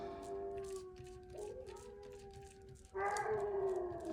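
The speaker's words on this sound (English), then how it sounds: "my dogs howl at ambulance and firefighter sounds." Indoor dogs howling at passing emergency sirens, several drawn-out wavering howls that slide in pitch and overlap, swelling louder near the end.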